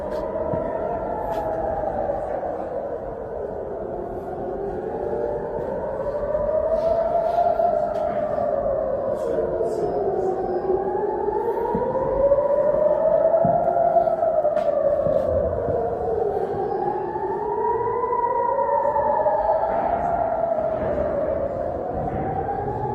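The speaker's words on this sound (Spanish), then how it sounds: "lo van a escuchar porque están sonando las sirenas de la guerra" War sirens sounding at the Church of the Holy Sepulchre in Jerusalem, several wailing tones rising and falling in slow overlapping cycles, loud and sustained throughout with no talk.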